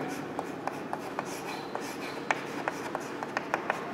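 Chalk or marker tapping and scraping on a board during an engineering lecture, a series of short sharp ticks spread irregularly over a soft, steady room hiss, fairly faint and heard alone without talk.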